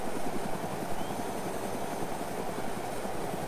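A helicopter in the video game ArmA 2 flies with a steady, close rotor chop and engine whine, the rhythmic blade thumping continuous and alone throughout.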